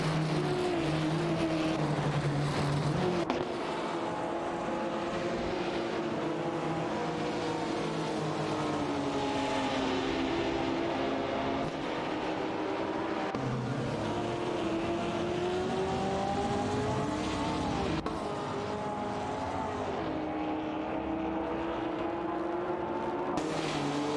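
Race cars in an AI-driven racing game roar around the track in a continuous engine drone, pitch rising and falling as they jockey for position, loud and steady throughout.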